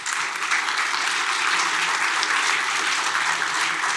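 A hackathon crowd in Kraków applauds a sponsor, producing a full, sustained wash of clapping that holds at an even, fairly loud level without talk.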